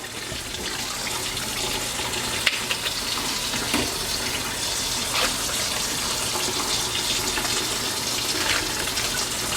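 Tap water runs steadily into a sink while a whole chicken is rinsed, a continuous splashing hiss with faint knocks of handling underneath.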